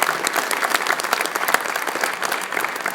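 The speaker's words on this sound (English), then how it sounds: "So let's give them a round of applause." Applause from the audience at a credit union's annual general meeting fills the room, dense and continuous clapping of many hands at a steady, fairly loud level.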